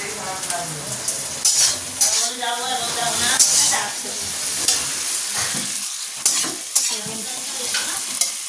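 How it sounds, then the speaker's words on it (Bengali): Fish curry with onion, green chili and tomato sizzling loudly in a pan at a home kitchen, a dense close frying hiss broken by stirring clatter, with voices talking over it at times. "মাছের তরকারি বসিয়ে দিয়েছি, পেঁয়াজ কাঁচা লঙ্কা টমেটো দিয়েই করবো।"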